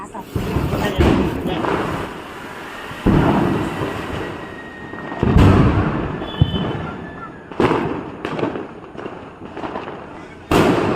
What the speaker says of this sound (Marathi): फटाके फोडूया चलिये चल सुरसुंडी लावूया